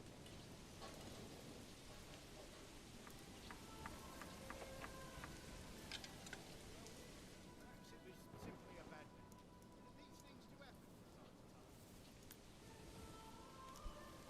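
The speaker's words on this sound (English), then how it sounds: "Oh, it is raining." Steady rainfall in the medieval city-building game Manor Lords, a constant hiss of drops with faint distant rumbles, broken by scattered clicks and small game sounds, continuing evenly throughout.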